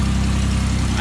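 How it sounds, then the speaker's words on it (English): An idling 1992 Camaro RS engine with an exhaust leak, heard up close as a loud, steady low rumble with a rough, even pulse and no revving. "I got a little exhaust leak."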